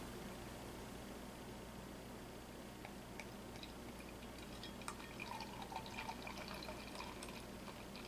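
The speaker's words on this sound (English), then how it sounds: "Let's get a pour." Mort Subite Kriek beer pouring into a glass, a faint, steady liquid trickle with scattered drips and fizzing carbonation over a constant low background hum.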